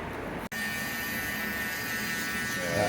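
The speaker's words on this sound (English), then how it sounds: "We go to the shaver at the bottom now." A Babyliss Boost electric shaver buzzes steadily close by during a haircut, with a brief cut-out near the start before the hum resumes.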